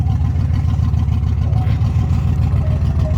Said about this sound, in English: It's a Land Rover that sounds terrible, you guys. It sounds awful.